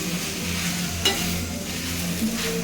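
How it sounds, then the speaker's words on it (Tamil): Two ladles mix kothu chapati with egg in a hot pan, producing a steady close sizzle with soft scraping and an occasional metallic clink, without any talking. "ரெண்டு கரண்டி வச்சு கலக்கி விட்டால் தான் நல்லா கலந்து வருது"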